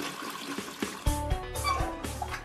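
A toilet flushes as siphon and gravity pull the water down the drain, a steady close gurgling rush with a few louder surges partway through.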